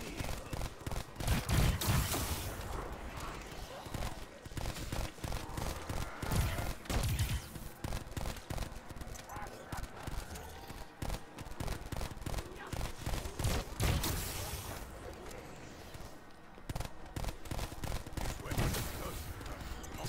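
Dense, sustained automatic gunfire from a Call of Duty Black Ops 4 Zombies match rattles on almost without pause, with players talking over the shooting.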